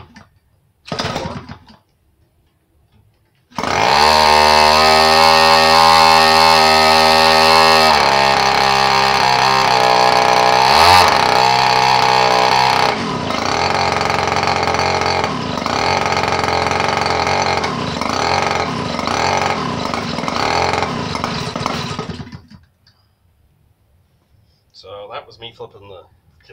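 A 58cc Evolution gas model aircraft engine with a 22x10 propeller and RCexl ignition starts up, then runs loud and steady at high revs for about twenty seconds, with the pitch shifting partway through before it cuts off, with brief talk at either end.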